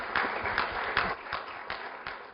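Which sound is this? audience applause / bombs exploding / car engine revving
audience applause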